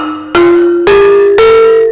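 Three gong notes from a Filipino gong set ring out one after another, each a clear metallic strike with a long sustain. Every note sits slightly higher than the one before, and they play alone with no voices.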